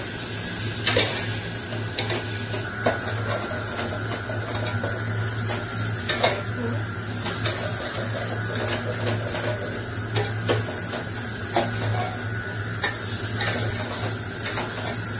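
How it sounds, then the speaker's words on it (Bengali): Rice and lentils being fried with spices for khichuri, a steady sizzle under frequent metallic scrapes and clinks of a spoon against the pot, close and continuous. "এই চাল ডালটা মশলার সাথে ভালো করে কষিয়ে নেব।"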